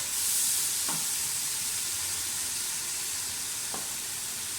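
Masala is being fried in a pressure cooker, a constant bright sizzle up close, broken twice by a short scrape of a spoon stirring the pan, with no talking.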